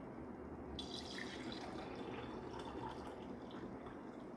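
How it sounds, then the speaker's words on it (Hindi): Steady running water pours and splashes into a glass, a continuous gushing that fills the whole stretch with no voices. "हम सबसे पहले ये ग्लास में से एक ग्लास में पानी भरेंगे जितना हम पी सकते हैं"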